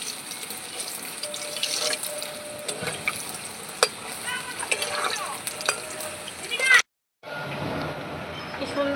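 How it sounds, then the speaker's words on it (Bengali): Semolina gulab jamun sweets fry in hot oil in a pan, giving a steady bubbling hiss with occasional soft clinks and stirring sounds, close by, broken by a brief silence near the end. "কি সুন্দর ভাজা হয়ে যাচ্ছে দেখুন বন্ধুরা মিষ্টিগুলো"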